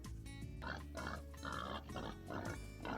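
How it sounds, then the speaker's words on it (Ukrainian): Several deep, rough pig grunts and snorts in short bursts, close and fairly loud, with no talking. "Так, правильно, це звук мами свинки."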